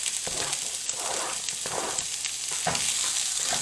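Onions, garlic and cauliflower sizzle steadily in a hot pan, with soft scraping as the mix is stirred every second or so. It is close and even, with no talk.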